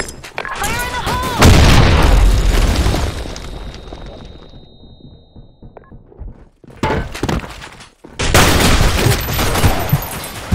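A grenade blows up in the video game Blackshot with a heavy, booming blast that tails off. Sharp gunfire bursts follow, and a game voice is heard.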